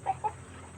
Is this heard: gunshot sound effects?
no